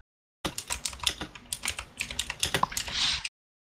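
Quick bursts of computer keyboard typing, close and crisp, a run of irregular clicking keystrokes that starts abruptly and stops after about three seconds, with no talk.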